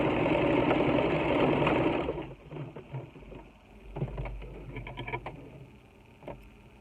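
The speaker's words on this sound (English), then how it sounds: "I do a little back stitch, and I find my corner here and I head towards it." A sewing machine back stitches on a half apron, running fast and loud with a steady whir for about two seconds. It then stops, and quieter handling clicks and soft thumps follow.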